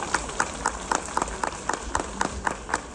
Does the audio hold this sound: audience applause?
yes